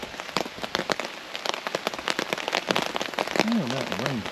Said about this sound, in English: about the rain coming down